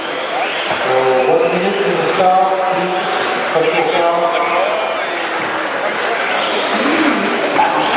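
Radio-controlled model race cars whine around a track at a modelling championship, high buzzing motors rising and falling as they pass, layered with crowd noise and commentary.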